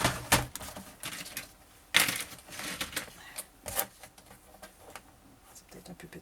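Cardboard strips being creased into folds for a two-section box, sharp crisp presses and scraping strokes at an uneven pace, close and moderately loud.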